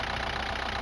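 A Hyundai Santa Fe diesel engine idles from a cold start, giving a steady, continuous mechanical drone with a faint knocking texture, close and even throughout.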